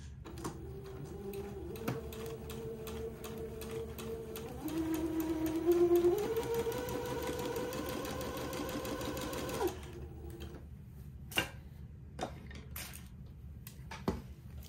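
A sewing machine stitches garment fabric a short distance from the edge, a steady mechanical whir that rises in pitch and speed mid-run, then stops, followed by a few sharp clicks and taps close by.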